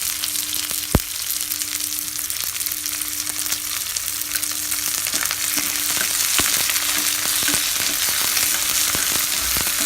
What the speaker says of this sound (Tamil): சின்ன வெங்காயம் கொஞ்சம் வணங்கியதும் வரமிளகாயும் கொஞ்சம் கருவேப்பிலையும் ஆட் பண்ணிவிட்டு நல்லா வதக்கி விட்டுருங்க.